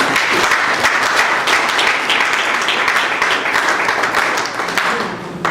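Sustained audience applause fills the hall at a Congo and Africa jobs forum, dense and loud from start to finish before thinning slightly at the very end.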